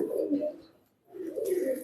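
Soft, low pigeon coos close by, two murmuring calls separated by a brief pause.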